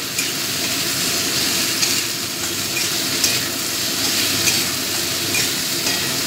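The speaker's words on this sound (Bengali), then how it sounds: "পেঁয়াজটা একটু ভাজা ভাজা করে নেব" Onions frying in a pan with salt for a duck egg curry, a steady loud sizzle with scraping stirring strokes throughout and no voices.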